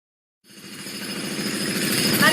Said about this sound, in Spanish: Martillo neumático, así se llama.